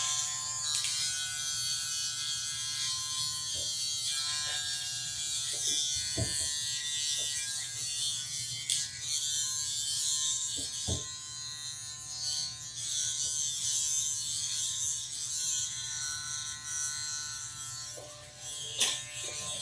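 Electric hair clippers, JRL or StyleCraft Instinct, buzz steadily up close, with occasional clicks and small shifts in pitch as they move, no voices present.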